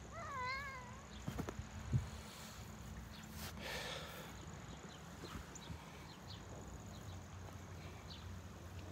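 A cat lets out a few wavering meows near the start during an outdoor New England weather outing, followed by rustling, scattered knocks and steady background ambience with no talking.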